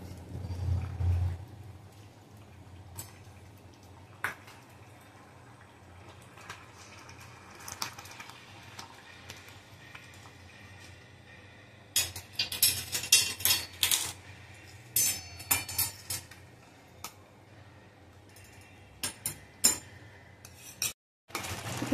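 A spoon scrapes and clinks against a pot while rice kheer is stirred with jaggery, giving faint, irregular metallic rubbing and tapping over a quiet background with a low hum at the start.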